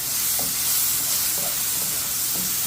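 Mushrooms and garlic sautéing over medium heat in a pan with a steady bright sizzle, interrupted by a few soft scraping stirs of a utensil.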